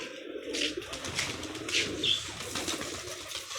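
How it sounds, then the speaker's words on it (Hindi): Pigeons in a loft give low, soft cooing calls in a few brief bursts, fairly faint over background hum, with no talk. "तो कबूतर देख ले माशाल्लाह सारे सेट हैं।"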